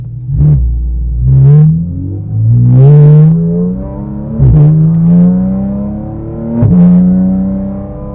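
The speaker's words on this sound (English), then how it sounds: "And our job today is to go assess how it sounds and share that with the world." Porsche GT4 RS exhaust revving loudly and up close, with several rising sweeps up through the revs and sharp crackles between them, and no one talking.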